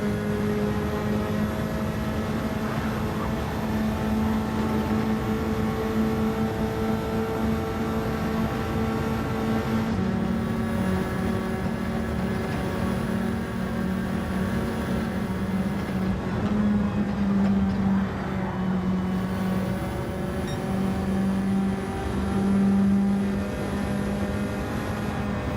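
Racing car engine in Gran Turismo during online lobby racing, a steady high droning whine with shifting pitch that holds loud and continuous throughout, with no talking.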